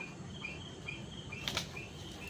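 A small bird that cannot lift off the ground flaps its wings in quick, faint flutters over steady outdoor background noise, with one sharper flurry of wingbeats partway through.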